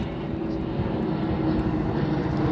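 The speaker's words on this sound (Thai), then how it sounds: "เครื่องบินกำลังมาพอดีพี่น้อง" An airplane flying overhead above a rural buffalo pasture, a steady broadband engine drone that builds slightly louder over the few seconds, continuous and fairly close.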